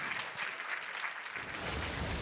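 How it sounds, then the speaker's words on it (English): A tournament audience at the 2017 Hearthstone Championship Tour Summer Championship quarterfinals claps loudly and steadily, with the dense applause swelling toward the end. "a big round of applause for Orange"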